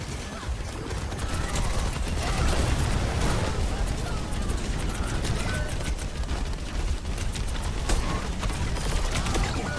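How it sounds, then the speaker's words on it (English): Rockets pound into an enemy shield in an Overwatch 2 match, a dense, continuous roar of explosions and clattering mechanical impacts, loud and unbroken, with voices talking over the battle. "Trying to put rockets into the shield."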